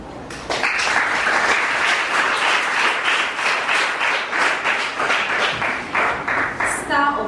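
An audience at a school quiz competition claps in a sustained burst of loud, dense applause lasting several seconds before tapering off.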